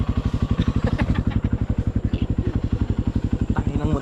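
A Honda CRF150L dirt bike engine runs close by with a rapid, even single-cylinder pulse that stays steady throughout, while someone talks over it.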